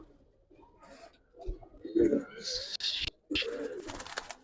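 Giribaz and colored pigeons coo on a pigeon farm in Bangladesh, with a few soft throaty calls and rustling close by while a person talks over them.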